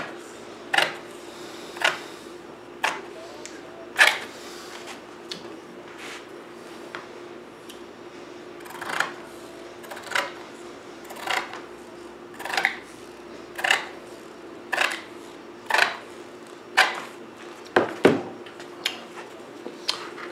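Slightly dull household scissors snip through Kevlar cloth, giving a steady series of crisp, close cuts about once a second over a quiet background.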